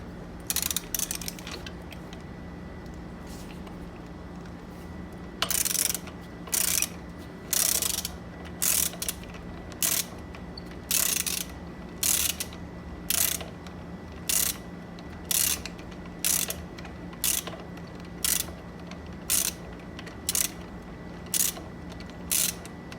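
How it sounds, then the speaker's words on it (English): Socket wrench with a 12mm socket loosening a nut on a Dualtron Raptor electric scooter, giving a long series of regular, close ratcheting clicks with pauses between strokes, no voices. "In order to loosen this nut, I'm going to use a socket wrench with a 12mm attachment."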